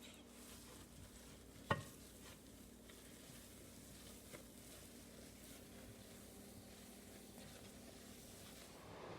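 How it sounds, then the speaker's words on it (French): Soft stirring of melted marshmallows in a pot, a faint steady scraping and sizzle-like hiss at low volume, with one brief clink near the start. "on continue à brasser"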